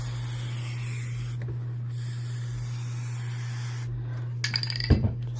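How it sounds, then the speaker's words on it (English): A continuous aerosol spray hisses over a low electrical hum, pausing briefly, followed by a few quick bumps and handling noises near the end. "spray your edges."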